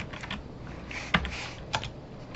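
Keys tapped on a computer keyboard while debugging assembly in Visual Studio, a few close, sharp clicks and two louder presses spaced across a short stretch, with no voices.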